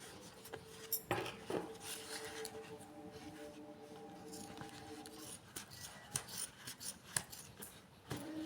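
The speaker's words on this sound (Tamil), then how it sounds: "இப்போ எக்ஸஸாக உள்ள கயிறுலாம் நம்ம கட் பண்ணிடணும்." Scissors snipping off excess rope while a Christmas bell is being made, a few close crisp cuts and rubbing handling noises in a quiet room, with a faint tonal hum in the middle.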